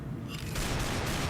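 Desert Eagle pistol firing in Counter-Strike Source, a heavy in-game handgun blast with a loud, booming report that sustains over a second, close and alone.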